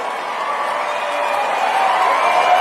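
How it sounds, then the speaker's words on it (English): A large crowd at an event cheers and roars in a continuous swelling wash of noise that builds slightly louder toward the end, heard from a distance. "listen to that crowd"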